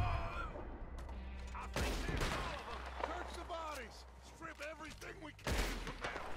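Gunfire from Red Dead Redemption 2, the western video game: a few sharp close shots with a burst near the end, mixed with game ambience while someone talks over them.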